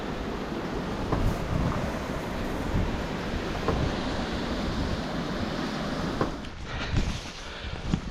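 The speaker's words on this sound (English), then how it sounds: "All that water being diverted off." Diverted water rushes steadily near a big water wheel at Triberg, a broad, continuous roar like heavy surf with some wind buffeting on the microphone, no voices.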